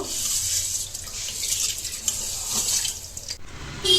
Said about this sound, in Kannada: ಒಂದು ಬಟ್ಲು ಹೆಸ್ರು ಕಾಳು ತೊಗೋಬೇಕು ಅದನ್ನು ಚೆನ್ನಾಗಿ ವಾಶ್ ಮಾಡ್ಕೋಬೇಕು